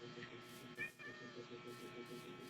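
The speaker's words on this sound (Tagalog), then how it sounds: "Pusa." A Minecraft cat gives a short meow amid a quiet in-game background, with a brief higher-pitched cry in the middle of the clip.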